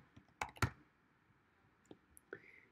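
A handful of crisp computer keyboard clicks while an email address is typed, two louder taps close together near the start, then a few softer scattered keystrokes in a quiet room.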